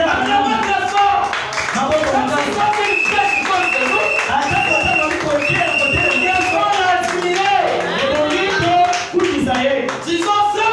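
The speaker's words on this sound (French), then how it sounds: "Acclamons très fort." A church congregation applauds and cheers for Brother Branham, loud crowd clapping with shouts running continuously, mixed with voices and music-like tones.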